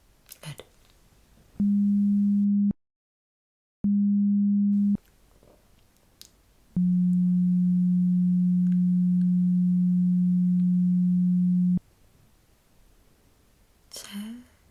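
Steady pure beep tones from an ear-exam hearing test: two short beeps separated by a silent gap, then one long sustained tone, with faint whispering and rustling in the background between them.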